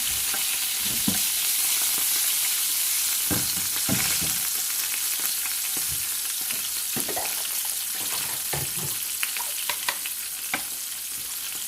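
Steady crackling sizzle of frozen curry leaves dropped into hot oil, with scattered louder pops and spatters throughout, close and continuous.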